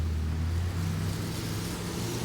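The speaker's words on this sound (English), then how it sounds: "See how they rev up their engines when they pass by?" Car engines rumble steadily and loudly at close range, a continuous low drone of vehicles passing by with no talk over it.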